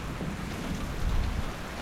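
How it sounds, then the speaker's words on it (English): Heavy rain pours steadily onto a camp in the Serengeti, Tanzania, a dense, continuous roar of downpour close by, swelling slightly toward the end with no voices. "Listen to that rain coming down."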